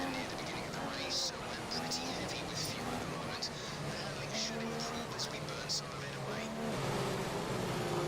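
A Marussia race car engine drones in a racing video game, a steady high-pitched whine with shifting gear tones, heard faintly beneath someone talking throughout.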